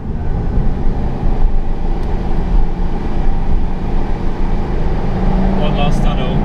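A Jaguar XK8 with a 4.2 litre V8 and Adamesh aftermarket exhaust, a loud continuous low rumble while driving, with a brief higher mechanical whine near the end.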